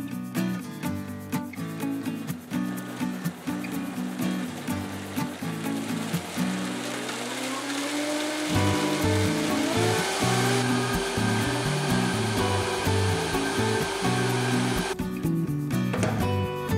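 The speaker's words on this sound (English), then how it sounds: "Blend on high." A countertop blender runs on high, puréeing boiled hot peppers with vinegar for hot sauce, a loud steady motor whine that climbs in pitch partway through as the mix smooths out, then cuts off near the end.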